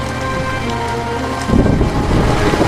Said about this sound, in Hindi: फिर सुशील भारी वर्षा में छाता लेकर काम की तलाश में बाजार की ओर निकल जाता है